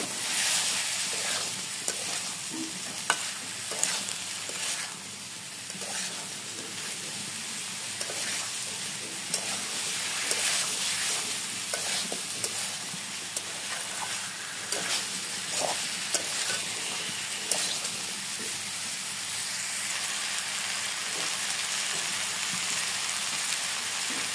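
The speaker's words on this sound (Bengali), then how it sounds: "আলু ও শালগম দিয়ে এবার সব ভালো মতো একসাথে নাড়িয়ে নেব" A spoon stirs fried potatoes and turnips into bubbling spice paste in a pan. The sizzle is soft and continuous, with repeated scraping and clicking strokes spread across the whole stretch and no talking.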